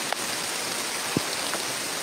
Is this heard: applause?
no